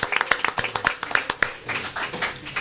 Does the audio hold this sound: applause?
yes